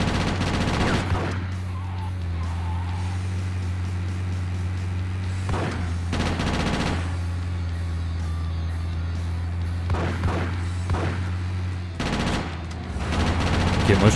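Gunfire in the GTA Chinatown Wars gang carnage mission, with several dense automatic bursts over a steady low engine drone, loud and close, mixed with traffic noise and brief talking.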